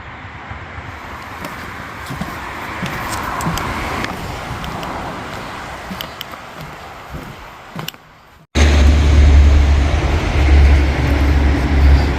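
Traffic on two-lane Route 100 in Florida, heard from a roadside walking path as a continuous broad roar of passing vehicles, with a sharp close whoosh near the end.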